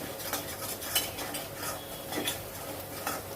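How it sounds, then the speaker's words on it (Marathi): A spoon scrapes and clinks rhythmically against a pan while spice masala with coriander-cumin powder, onion-coconut masala and Kashmiri chilli is stirred and sautéed, with soft sizzling beneath the close, repeated metallic strokes. "छानपैकी आपल्याला परतून घ्यायचा मसाला"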